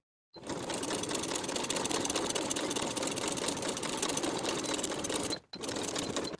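A sewing machine stitches the long seam of a weekender bag's front and back panels, running steadily and alone for about five seconds before a brief stop, then starting up again.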